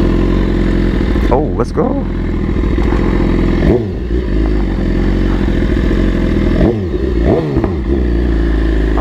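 A BMW S1000RR sport bike roars close by on a Coney Island ride, its engine droning steadily with sharp revving swells and drops around the second, fourth and seventh seconds, while a rider's voice speaks briefly over it.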